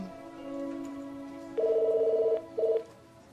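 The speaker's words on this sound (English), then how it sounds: "Your phone is ringing." A telephone rings in two electronic bursts, a longer trill followed by a short one, loud and clear over a faint steady tone, in a kids' Bible show.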